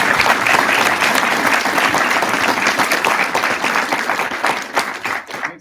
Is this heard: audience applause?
yes